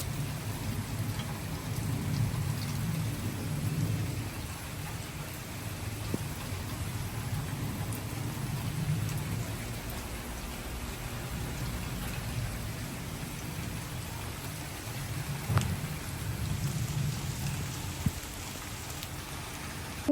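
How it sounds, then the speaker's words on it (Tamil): Steady heavy rain pours outside, a dense continuous hiss with occasional louder drips and taps, no voices. "வெளியில் நல்ல மழை பெஞ்சு கொண்டு இருக்குது."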